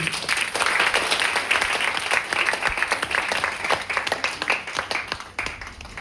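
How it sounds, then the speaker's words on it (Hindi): An audience at a product seminar gives a round of applause for Sunil sir, with many hands clapping in a steady, fairly loud burst that holds for about six seconds. "एक बार फिर से सुनील सर के ताली होनी चाहिए"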